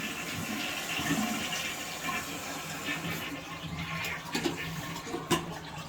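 Water rushes into a toilet tank as it refills after the fill valve is lowered a notch, a continuous hissing, gurgling flow close by with a few sharper splashes near the end.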